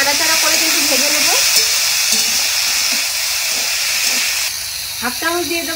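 Spices (salt, turmeric and red chilli powder) fry in oil while being stirred for a vegetarian paneer roll filling, giving a loud, steady sizzling hiss throughout, with a voice speaking in places.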